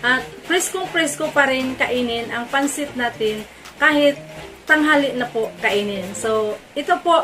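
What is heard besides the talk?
No everyday noises stand out.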